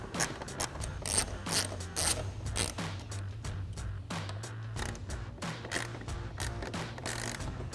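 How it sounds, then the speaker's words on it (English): A ratchet with a 7mm socket backs screws out of a lower trim panel on a 2021-2023 Ford F-150, giving rapid close metallic clicking in uneven bursts with short pauses. "we'll grab our 7mm socket on our ratchet and go ahead and pull these out"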